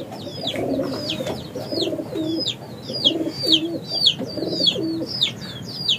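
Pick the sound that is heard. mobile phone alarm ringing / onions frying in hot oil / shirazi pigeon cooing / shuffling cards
shirazi pigeon cooing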